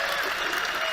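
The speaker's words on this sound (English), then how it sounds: "I've never heard so many people applaud an evasion of a simple question." A large audience at a Peterson/Harris debate breaks into dense, loud applause, a steady wash of clapping from a crowd that fills the whole moment.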